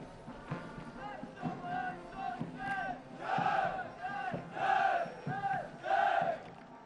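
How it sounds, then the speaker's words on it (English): Second-term cadets at a National Defence Academy passing out parade cheer the passing out course with a series of loud chanted group shouts, rising in rhythmic waves from a large crowd outdoors. "They will cheer the cadets of the passing out course."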